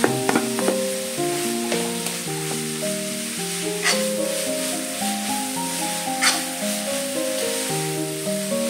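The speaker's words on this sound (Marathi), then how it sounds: "हे सगळं छान असं परतून घ्या।" Tomato sautéing with radish greens in a pan for a spicy radish vegetable dish, a steady loud sizzle throughout with occasional stirring scrapes, no talk.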